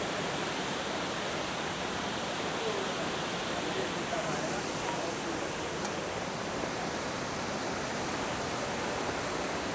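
Cane River in Jamaica flowing near a bridge and waterfall, a steady broad rushing roar of water that holds constant throughout, fairly close and unbroken, with no voices.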